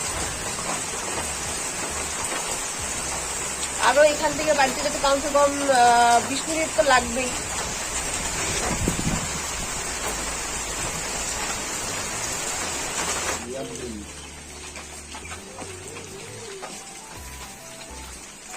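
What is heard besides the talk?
rain falling with wind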